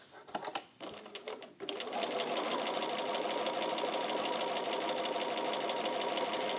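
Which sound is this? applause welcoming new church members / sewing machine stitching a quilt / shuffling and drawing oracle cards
sewing machine stitching a quilt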